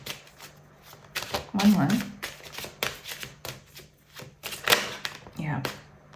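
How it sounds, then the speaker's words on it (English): Tarot cards shuffled by hand in a series of soft riffling bursts, close by, with someone talking between and over them. "I almost felt called to like shuffle these again"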